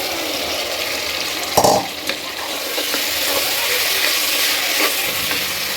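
Kantola (spiny gourd) drops into a hot pan of browned onion and softened tomato masala, a brief thump and stir against a strong, continuous close sizzle.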